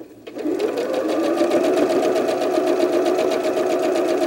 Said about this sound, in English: Take it back to your sewing machine.